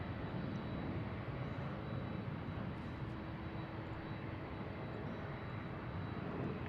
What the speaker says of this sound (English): We do have another big bird coming up here. And that is a Delta flight headed out to Shanghai.